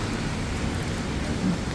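Steady rain pours down in a dense, continuous hiss with a low rumble underneath.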